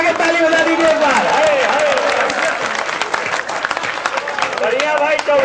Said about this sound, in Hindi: दोनों हाथ ऊपर उठा के ताली बजा दीजिए एक बार।